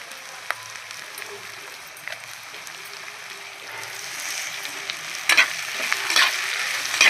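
Onions with coriander and curry leaves fry quietly in a pan for sankara fish curry, a soft steady sizzle with scattered light clicks, then sharper crackling bursts as tomatoes drop in near the end; no talking.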